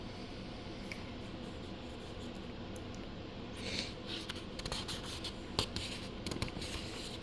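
A colored pencil scratches across paper in a coloring book, soft continuous strokes close up and fairly faint, with a few brisker scribbles toward the end.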